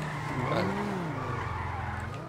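A car in a video game reverses with a loud, close engine drone whose pitch rises and falls, and tire squeal and skidding mixed in. The sound runs continuously with no clear voices.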